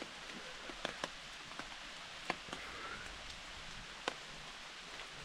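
Big raindrops fall on the Long Trail, not a downpour, landing as scattered distinct taps over a soft steady patter, fairly faint and alone.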